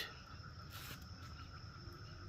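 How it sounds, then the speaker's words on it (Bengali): Crickets chirp steadily at dusk around a quiet ashram at Joydev Kenduli, West Bengal, a faint, even high-pitched drone spread across the whole stretch with no voices over it. "চতুর্দিকটা একদম নিস্তব্ধ, শুধু পাখির আওয়াজ, ঝিঝির আওয়াজ"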